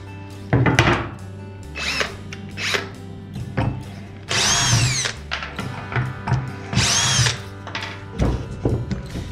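A power drill backs screws out of a small piece of wood, several short whirring bursts with clunks in between and two longer higher-pitched runs, close and loud with no talk.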